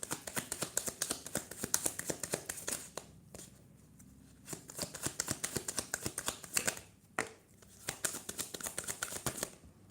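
Tarot card decks from three separate stacks shuffled by hand, a dense run of crisp riffling flutters and taps broken by two short pauses, close and fairly loud with no talking.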